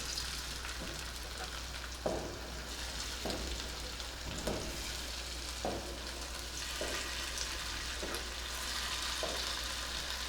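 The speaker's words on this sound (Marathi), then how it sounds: "आता त्याच्यात हे मी कारल्याचे काप घालते" Slices of bitter gourd shallow fry in hot oil, giving a steady, moderate sizzle with soft, regular scraping taps from stirring or turning roughly every second.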